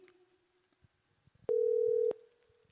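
Telephone ringing tone on an outgoing call to a contestant during a singing-contest broadcast: one steady, loud electronic tone lasting about half a second over quiet background noise, with no talking.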